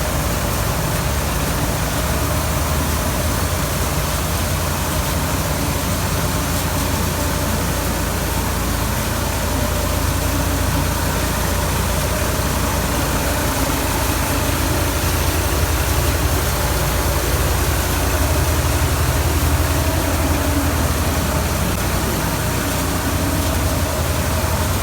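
A Massey Ferguson 260 tractor engine runs steadily and loudly without a break during maize shelling, a constant low rumble with no talk over it.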